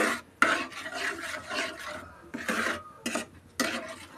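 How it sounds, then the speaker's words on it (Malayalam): Onion, ginger and garlic masala stirred in a pan for a sardine lunch, giving repeated scraping, rasping strokes of a spoon against the pan in irregular bursts, close and moderately loud with no talk. "അതുവരെയ്ക്ക് നന്നായിട്ട് ഇളക്കിക്കൊണ്ടിരിക്കണം."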